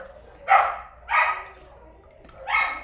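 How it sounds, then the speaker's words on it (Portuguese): Dogs barking three times in separate bursts about half a second apart, fairly close and clear over a quiet low hum, with no talking. "porque a cachorrada tá latindo"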